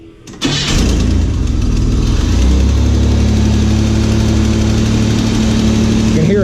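LS-swapped Chevy Nova V8 cranking and catching, then settling into a loud, steady, rumbling idle up close, with a voice briefly in the background.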